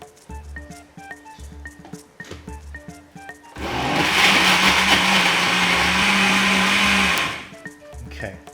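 Blender puréeing beetroot gazpacho thickened with stale bread, a loud continuous whirring roar lasting a few seconds, preceded and followed by quieter rhythmic kitchen knocking.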